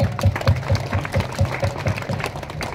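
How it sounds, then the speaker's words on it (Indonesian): A church congregation claps in a steady rhythmic beat, the loud, evenly spaced claps repeating several times a second over a low background hum. "Kita tepuk tangan buat Tuhan Yesus."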